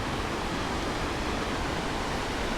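Near the Osprey Falls trail on Old Bunsen Peak Road in Yellowstone, a river rushes in a steady, dense broadband roar, continuous and moderately loud with no other sounds over it.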